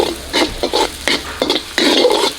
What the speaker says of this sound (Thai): เราจะ ผัดผัดคั่วๆให้เขาหอมก่อน